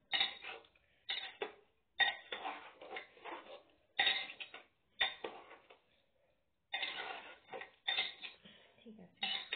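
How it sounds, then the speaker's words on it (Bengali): A utensil stirs egg and vegetable biryani in a pot, producing repeated close scraping and clattering bursts in an uneven rhythm with brief pauses between strokes. "ভালো করে মিশিয়ে নিই।"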